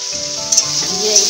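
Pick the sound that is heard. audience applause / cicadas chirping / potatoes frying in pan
potatoes frying in pan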